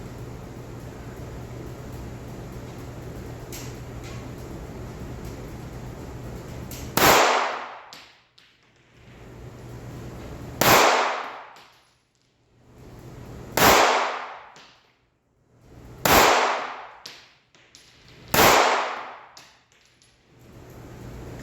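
Five sharp gunshots from a Ruger EC9S pistol at an outdoor range, spaced a few seconds apart, each a loud crack with a short fading tail over a quiet background.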